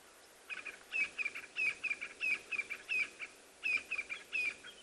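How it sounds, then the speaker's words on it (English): Birds call at sunrise in South Africa in quick repeated chirps, a bright rhythmic series of high notes, fairly close, over a quiet outdoor background. "As you can hear birds all excited about the rise"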